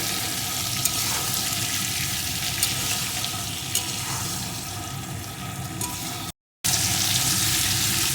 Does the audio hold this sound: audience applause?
no